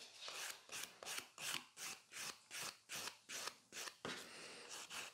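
A nail file scrubs across a natural fingernail plate in about a dozen quick, evenly spaced rasping strokes, close and crisp, with no voices.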